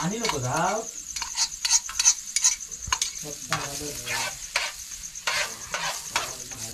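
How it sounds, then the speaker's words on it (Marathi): Crushed garlic sizzles in a hot pan at an outdoor night camp cooking spot, with a utensil stirring and scraping in quick irregular strokes over a steady frying hiss, close and clear. "खाला लसूण ठेचून घेतलंय ते टाकते आता."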